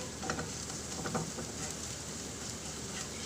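Rice frying in a pan with Schezwan sauce poured over it, giving a steady close sizzle with light stirring scrapes and brief spatters throughout.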